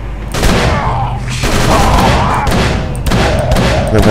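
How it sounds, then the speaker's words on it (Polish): A rapid volley of revolver shots fired blindly until the magazine is empty in the Call of Cthulhu video game, loud and close, with heavy thumping blasts repeating across the whole stretch. "Cały magazynek wywaliłem."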